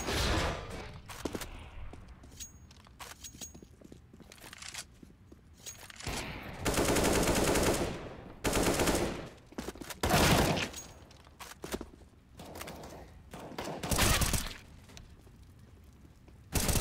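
Gunfire in a CS:GO match, with repeated bursts of automatic rifle fire and single shots that come in loud clusters separated by quieter stretches of game ambience.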